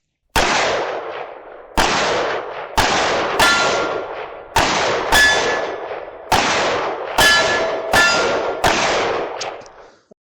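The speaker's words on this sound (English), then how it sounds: "I'm going to be shooting I guess he's a World War II soldier and a monster, placed on steel targets." Ten rounds fired from a magazine at steel targets shaped like a World War II soldier and a monster during a walking shoot, each loud shot followed by a ringing metallic clang, spaced about a second apart, no talk.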